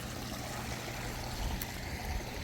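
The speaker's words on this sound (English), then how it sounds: "Waterfall's looking good." A backyard waterfall runs in a soft, steady rush of falling water, quiet and continuous with no talking.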